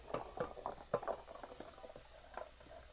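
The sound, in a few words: onions, carrots, celery and garlic sizzling in oil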